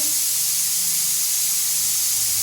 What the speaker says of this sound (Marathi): कुकर कुकर लावलेला आहे एक वाजला की हो गरम गरम भात शिवायचं म्हणजे चौथी शिट्टी आहे